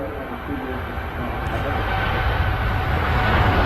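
A departing airliner at Manchester Airport roars loudly and steadily, its broad jet rumble building slightly as the aircraft climbs away.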